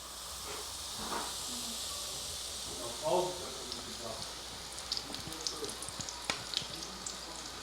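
Food frying in a large amount of oil, with a steady hiss and sizzle throughout, louder crackling bursts partway through, and sharp spatters near the end under a quiet background.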